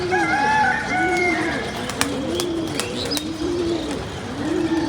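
Domestic pigeons coo in a steady, repeating rhythm outdoors after their first flight, the low rounded calls rising and falling about once a second, with a few sharp clicks and faint background bird calls.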